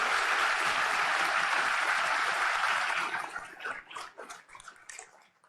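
An audience at a government event in Mexico gives a vigorous round of applause, loud steady clapping that fades away after about three seconds into scattered final claps.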